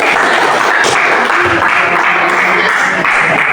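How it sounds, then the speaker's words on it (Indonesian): A room full of people claps in steady, dense applause, loud and sustained throughout with a faint voice underneath. "Beri tepuk tangan untuk kelompok 2."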